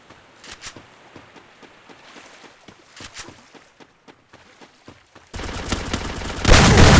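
Gunfire in the Free Fire battle royale game, including a shotgun kill: a run of sharp, spaced shots and clicks, then a sudden loud burst of dense, noisy blasts near the end, with no talk.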